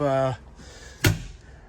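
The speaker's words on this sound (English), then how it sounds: "Sliding doors." Sliding storage cabinet door on a Jayco Terrain / Entegra Launch van rolls shut with a single sharp thunk, following a short stretch of talk.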